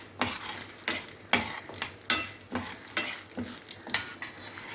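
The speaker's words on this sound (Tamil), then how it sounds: "அதில் வேர்க்கடலை காஞ்ச மிளகா ஜீரகம் எல்லாம் போட்டுடலாங்க எள் எல்லாம் போட்டு" Peanuts, dried chillies, cumin and sesame seeds roast in a pan, with a spoon scraping and stirring in a regular rhythm of close, crisp strokes over a light dry sizzle.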